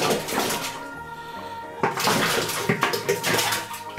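Frozen yeast briquettes are dropped into spring water while preparing a mash, making splashy gushing water sounds that ease off briefly midway and then surge back with bubbling and sloshing.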